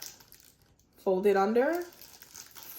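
Plastic wrap folded around a handmade soap bar, crinkling in a short close burst of rustles that fades after about a second.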